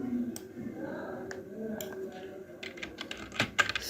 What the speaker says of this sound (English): I will type copy, then /b, then I will type the name of this rar file